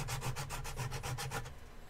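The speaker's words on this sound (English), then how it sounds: "kind of rake the edge of the file back and forth." A metal file raked back and forth along a wooden edge, giving a steady series of about nine close rasping strokes in a quick even rhythm before trailing off, with no talk.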